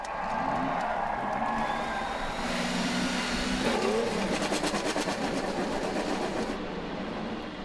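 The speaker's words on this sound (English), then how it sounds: "Future drivers of mine, start your engines." Race car engines starting up and revving, heard as a loud rising mechanical roar with whining pitch sweeps and a rapid buzzing rattle building over several seconds.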